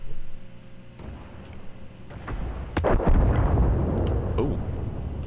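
A tank's ammo rack explosion in World of Tanks bursts out as a heavy, booming blast that rumbles on with a crackling low roar, following a brief quieter stretch with a faint hum.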